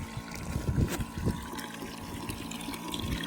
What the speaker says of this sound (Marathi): थोडं पाणी पण चालू आहे, मिक्स पण करणं चालू आहे आणि सोबत पंपात पण औषध टाकणं चालू आहे